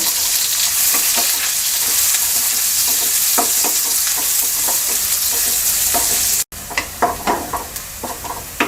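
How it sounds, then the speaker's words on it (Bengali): Chopped onions fry in hot oil with a loud, continuous sizzle, broken by scraping stirs of a spatula in the pan, close and without talk. "মিডিয়াম সাইজের দুটা পেঁয়াজ কুচি দিয়ে দিচ্ছি পেঁয়াজটাকে হালকা ভেজে নেব"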